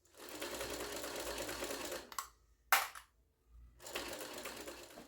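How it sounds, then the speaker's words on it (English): Sewing machine topstitching a backpack lining at an eighth-inch seam allowance: a quiet, rapid mechanical whir in two runs, separated by a short pause and a sharp click, then resuming. "we're going to go top stitch at 1/8 of an inch seam allowance"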